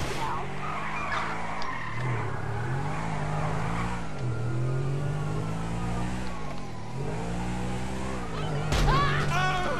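A fast car in GTA V tears along with a steady engine roar and long tire skids and squeals throughout, ending in a louder burst of screeching near the close.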